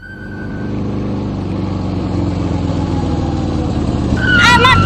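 A motorbike ridden along a road gives a steady engine drone that builds slightly over a few seconds, with a brief bright musical flourish at the end.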